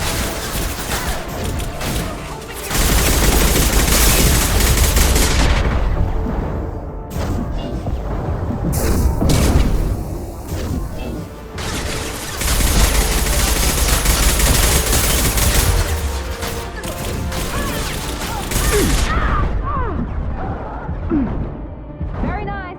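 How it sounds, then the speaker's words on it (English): Sustained automatic gunfire and impact blasts in the video game Mass Effect 2, played on Insane difficulty, loud and continuous with brief lulls, mixed with game voices talking. "Taking fire."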